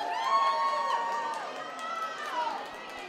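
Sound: crowd cheering and chattering at awards show

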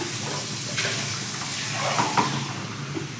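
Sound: water being poured into the pot for tomato bath

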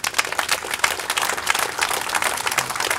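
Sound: crowd applause for firemen

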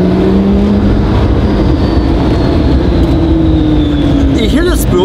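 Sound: McLaren P1 turbos spooling with electric motor whine

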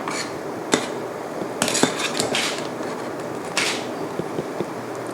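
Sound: scooping sago with a strainer into clean water

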